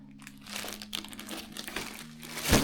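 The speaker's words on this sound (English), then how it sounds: "And I just keep all that in a Ziploc bag." A plastic Ziploc bag being handled while packing bike gear gives close, irregular crinkling and crackling, rising to a sharper crunch near the end, with a faint low hum underneath.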